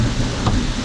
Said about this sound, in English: it is a massive storm that just came in out of nowhere. Look at that. The wind is pushing the rain.